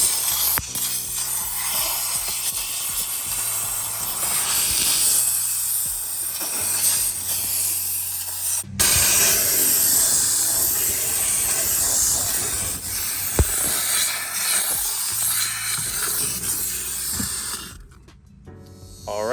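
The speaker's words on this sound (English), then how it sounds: "So what I'm going to do is I'm going to steam it out." A steam cleaner blasting into car interior crevices gives a continuous loud, close hiss with shifting rubbing textures, cutting out briefly near the end before resuming.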